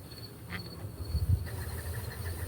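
Irritated honey bees hum in an opened hive during a nectar dearth, a steady low drone with faint higher whines drifting through, moderately near and continuous.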